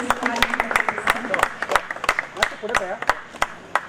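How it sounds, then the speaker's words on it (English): Scattered clapping from a small crowd at a logo unveiling ceremony, with sharp individual claps over a murmur of voices talking. "Let me celebrate this unveiling with a round of applause"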